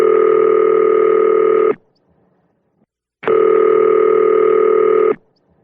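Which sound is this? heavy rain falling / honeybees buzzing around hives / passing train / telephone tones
telephone tones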